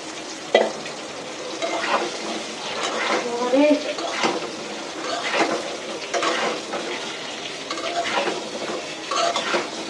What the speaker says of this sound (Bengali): পটলের সাথে আমি এখন পেঁয়াজটাও দিয়ে দিব, একসাথে ভাজা ভাজা হয়ে যাক